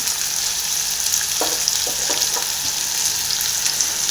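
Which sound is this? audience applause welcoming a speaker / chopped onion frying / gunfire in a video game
chopped onion frying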